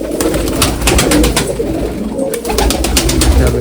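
Pigeons coo steadily and close by, a continuous throaty burbling with soft fluttering noise, and no talking.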